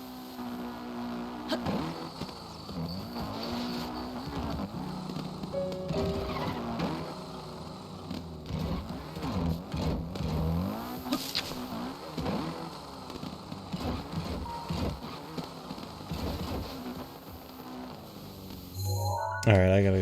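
Motorcycle engine revving hard during a wheelie in modded Breath of the Wild, with rising and falling whines and repeated throttle surges over a busy game soundscape, and a voice briefly talking.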